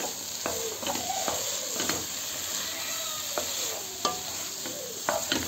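Carrot halwa with nuts and khoya gets stirred in a pan, a spoon scraping in repeated strokes over a constant soft sizzle, all close up and moderately loud.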